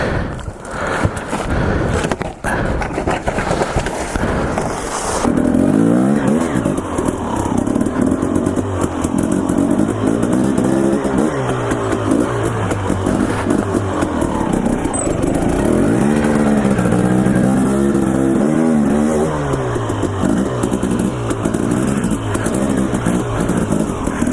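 A dirt bike engine drones steadily and loudly while the rider moves through a rocky canyon in Oreana, Idaho, its pitch rising and falling as the throttle changes, with clatter from the rough terrain and wind noise.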